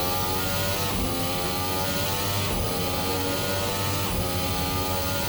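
Formula Hybrid 2017 race car in a racing sim game, engine howling steadily under power in fifth gear, loud and continuous with brief dips at gear changes or lift-offs.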